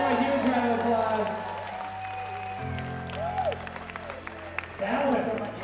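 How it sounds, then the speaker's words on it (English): Audience applauding after an auction sale of a Kent musket: sustained crowd clapping that fades, with someone talking over it near the end. "Give a huge round of applause."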